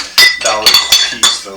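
Metal weight plates, small 2.5-pound ones, clink and clatter against each other in a home workout space, several sharp bright hits in quick succession, close and loud.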